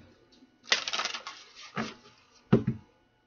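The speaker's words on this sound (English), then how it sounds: "All right, one more shuffle." A deck of cards is shuffled during a tarot-style reading: a longer riffling burst, a brief follow-up rustle, then two sharp snaps as the deck settles, close by with no talking.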